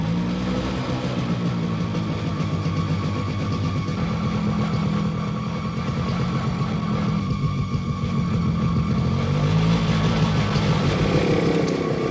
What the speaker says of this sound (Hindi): तुम मोटरसाइकिल लेकर जाओ और सारे एरिया का अच्छी तरह से चक्कर मारो।